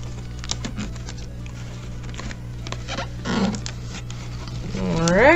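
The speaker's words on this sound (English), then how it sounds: "Just realized I haven't taped these edges yet, so I'm gonna do that quick." Tape being pulled and pressed along the edges of a homemade light box for product and macro photography: steady close rustling and tapping, ending in a rising squeal as a strip is stretched off the roll.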